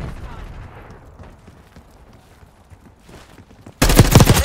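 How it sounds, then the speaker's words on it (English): Gunfire in the video game Black Ops 6, with a loud, dense burst of rapid shots breaking in near the end after quieter game ambience. "Enemy marksman shooting."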